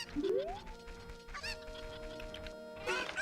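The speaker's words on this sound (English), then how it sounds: "Pick up the chicken." A cucco chicken in Zelda: Ocarina of Time clucks and squawks, with a rising call at the start, sustained tonal notes in the middle and another burst of clucking at the end, clear and alone.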